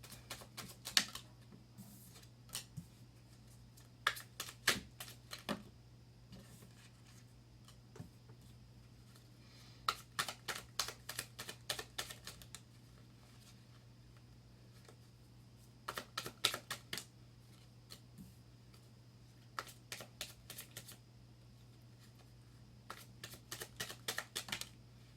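Tarot cards shuffled by hand, heard as repeated bursts of quick, crisp riffling clicks separated by short pauses over a steady low hum, with no talking.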